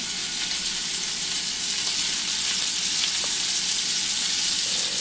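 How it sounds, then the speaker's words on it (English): Venison loin steaks sear in a hot pan, a dense, even sizzling hiss that holds steady and loud throughout, close up with no talking. "Put them that side down. Get a nice sear going."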